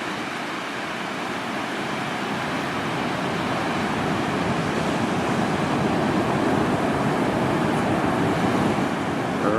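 Large sea waves surging at the St Lucia river mouth at low tide, a steady dense roar of surf, with wind, loud and unbroken throughout.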